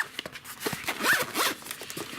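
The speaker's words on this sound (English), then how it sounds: "Zip it up." A zipper runs around a Filofax Pennybridge tablet case holding an iPad mini and a notebook, several quick close zipping strokes, fairly quiet.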